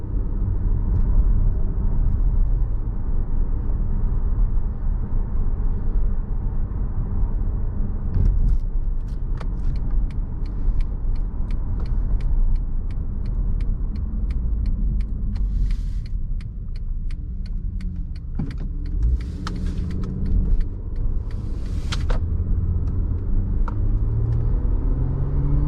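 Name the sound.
2014 Acura TL 3.7 engine in sport mode driving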